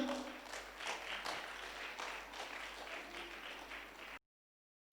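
Audience at a leadership talk breaking into scattered, steady clapping that carries on for about four seconds at a moderate distance, with no speech over it, then cutting off abruptly.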